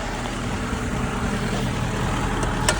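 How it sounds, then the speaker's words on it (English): A truck engine runs at a steady idle, a continuous low rumble with broadband noise throughout, no voices. "I don't know how loud the engine is."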